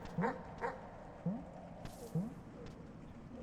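Dogs in the video game Animal Well let out three short, evenly spaced yelping chirps, faint and thin over a quiet ambient backdrop.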